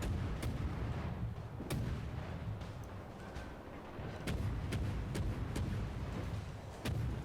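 Naval cruiser guns in World of Warships boom in repeated sharp salvos, irregularly spaced over a low rumbling engine and sea bed, with one muffled thud between the louder cracks.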